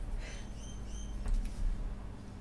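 A few light bird chirps sound outdoors on a quiet morning, brief high twitters early on over a low steady background rumble, faint and sparse.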